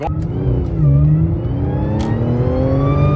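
An Audi S4 B8.5 with a 207mm crank pulley and supercharged engine revs hard and accelerates, its rising engine note loud and close for about three seconds.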